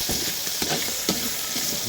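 Adobo frying in hot oil until toasted, a loud close sizzle with crackling pops and stirring scrapes throughout, no talk.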